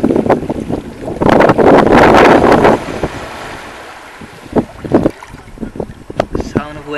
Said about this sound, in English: Sound of waves. That's what I love.